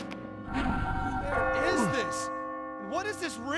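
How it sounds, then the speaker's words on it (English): A bell in the video game Catherine rings with long sustained tones under overlapping speech, its pitch wavering and swooping as the voices talk across it. "you will hear a bell ringing."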